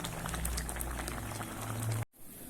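Tomato sauce simmering and reducing in a pot, a steady close bubbling hiss that cuts off abruptly near the end.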